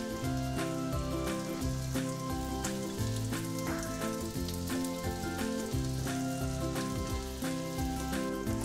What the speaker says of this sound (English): Pop the gnocchi in the pan. You just want to leave it in there long enough just to get a bit of colour on both sides.